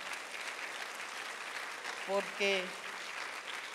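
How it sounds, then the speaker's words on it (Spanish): Applause from a church congregation fills the space, a steady broadband wash throughout with a brief spoken word rising over it midway. "Vamos a darle un aplauso fuerte al Señor."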